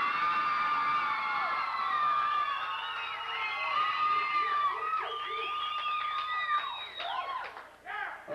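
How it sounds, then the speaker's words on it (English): A high school prom crowd from 1990 cheers and claps for a couple, with many voices whooping and shrieking in rising and falling waves over a continuous roar of applause in a large hall. "So clap loud for your favorite."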